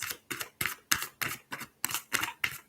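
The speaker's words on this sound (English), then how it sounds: "I always give them the super shuffle." Tarot cards given a vigorous shuffle, with eight evenly spaced crisp riffling snaps about a third of a second apart, close and alone.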